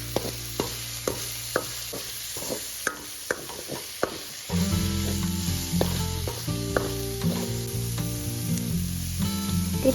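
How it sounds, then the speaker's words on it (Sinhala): Garlic, curry leaves and pandan leaves fry in oil with a bright steady sizzle. A run of sharp spoon taps comes first, then a louder, fuller frying hiss with stirring scrapes. "ඒ තෙල් ටිකටම සුදු ලුණු, කරපිංචා, රම්පේ දාලා ඒ ටික රන්වන් පාට වෙනකම් බැද ගන්නවා."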